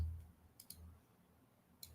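A computer mouse gives a few sharp, quiet clicks, two close together and one isolated, against a faint room hum during a live stock market stream.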